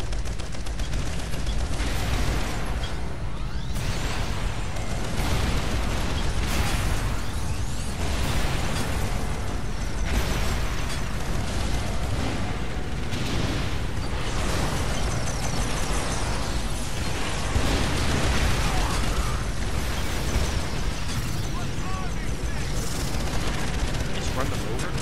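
Tank cannon fire and explosions in the Earth Defense Force Insect Armageddon video game, a dense, loud barrage of booming blasts and bursts that keeps going throughout, with a voice talking over it.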